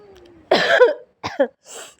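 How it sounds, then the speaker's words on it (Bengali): Someone with a cold coughs close by, one harsh cough followed by two quicker, lighter coughs, then a softer rasping breath, in a quiet room. "অনেকটা কাশি হয়ে গেছে"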